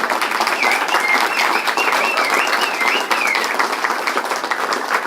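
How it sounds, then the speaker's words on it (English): Sustained audience applause at a political rally for the Conservative leader, dense steady clapping from a large crowd at even loudness, with faint cheering whistles over it. "give her a round of applause"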